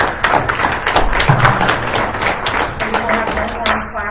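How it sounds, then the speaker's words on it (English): Audience clapping at a legislative coffee meeting in Sioux Falls, a burst of many hands applauding in a room, fairly loud and dense, fading near the end with some voices mixed in. "will have no more clapping on any sides"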